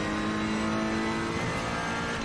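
A race car engine holds a loud, steady high-revving drone at full throttle in the Assetto Corsa Competizione racing game on the Nürburgring, with a thick, continuous mechanical roar.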